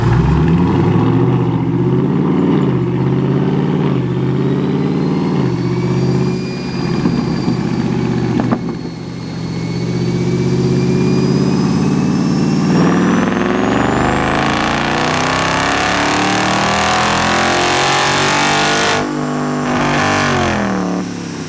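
Stock 392 Dodge Charger V8 roaring on a dyno, a loud sustained engine note that holds, dips briefly, then climbs steadily in pitch through a full-throttle pull, with no talking.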